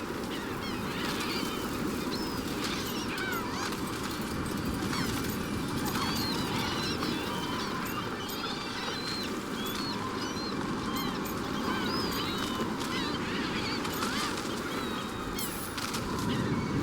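Birds in Dragon Age: The Veilguard crowd and squabble over a clump of thrown food, with continuous overlapping quacks, honks and squawks over a busy rustling bed throughout.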